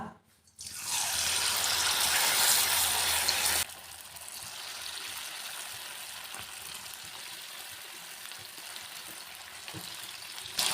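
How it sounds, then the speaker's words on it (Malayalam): Cauliflower pieces drop into hot sunflower oil, setting off a loud burst of bubbling sizzle that then settles into a steadier, quieter frying hiss. "നമുക്ക് ഇതിലേക്ക് നമ്മളെ കോളിഫ്ലവർ ഫ്രൈ ചെയ്യാനായിട്ട് ചേർത്ത് കൊടുക്കാം"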